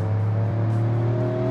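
A 1948 GT Premium car engine in a BeamNG racing game held at full throttle in second gear, a loud steady droning roar with strong low harmonics and no voices.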